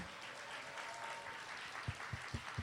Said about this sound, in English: So let's hear a round of applause for our first faces, please.